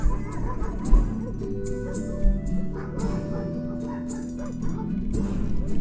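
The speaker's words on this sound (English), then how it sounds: "I hate the barking noise in the background." A dog barks and whimpers in the background of a scene in the video game Solstice, repeated yips and barks under a low droning musical score, steady and moderately loud throughout.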